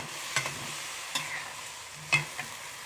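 Quiet sizzling of eggplant with minced pork and basil stir-frying in a pan, with a few sharp spatula scrapes and clinks against the pan over a low, steady hiss.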